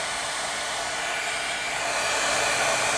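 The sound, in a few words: heat tool drying ink on art journal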